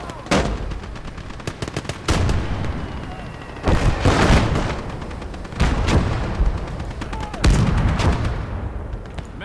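Repeated heavy artillery blasts and gunfire in a Kelly's Heroes war video game battle, loud booming bursts roughly every two seconds over a constant crackle of background combat.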